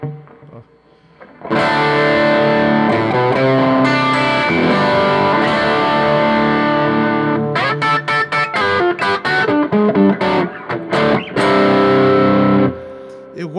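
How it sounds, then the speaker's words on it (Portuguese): A Fender Blues Junior III guitar amp, Mexican-made, cranked to full volume for saturation with reverb switched on, rings out loud distorted electric guitar chords, sustained strumming that turns choppy midway before a final held chord. "Acionar um reverbzinho."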